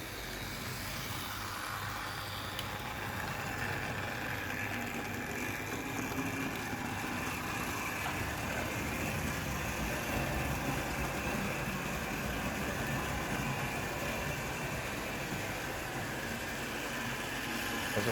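A Triang R54 Transcontinental Pacific model locomotive with a lively, remagnetised electric motor runs at speed, giving a steady, unbroken whirring hum that holds at an even level throughout with no talk.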